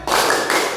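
A classroom group of vocational school students at SMK Negeri 3 Takalar performing a tepuk semangat spirit clap together, a dense burst of loud unison hand claps lasting under a second.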